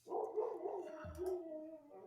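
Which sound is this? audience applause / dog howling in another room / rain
dog howling in another room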